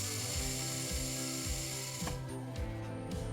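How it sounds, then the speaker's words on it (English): Unic paper compactor ram moving back up to the top of the machine, a loud steady mechanical drone with regular ratcheting clicks roughly every half second, heard close and without talk. "First, we have to return the ram back up to the top of the machine."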